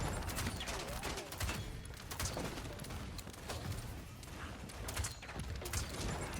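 Rapid gunfire from the Paladins shooter game on the Serpent Beach map, with dense, overlapping shots crackling throughout, mixed with game effects at moderate loudness.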